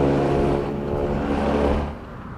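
Car tires rolling over grooved pavement rumble strips, a loud steady droning rumble with a buzzing tone that holds for about two seconds, then eases off.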